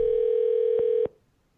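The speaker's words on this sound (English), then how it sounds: "If you hear the phone ring, just mute the stream for a moment." A telephone calling tone for a live call-in sounds as one steady electronic tone held for about a second, then cuts off abruptly.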